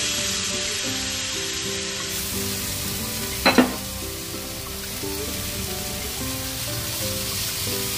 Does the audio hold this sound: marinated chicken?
yes